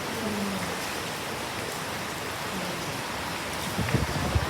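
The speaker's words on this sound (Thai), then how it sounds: "โอเคนี่ฝนตกค่ะ วันนี้ฝนตกเราเห็นบรรยากาศ" Heavy rain pours steadily outside a building, a dense continuous hiss with a few louder drops and patters near the end.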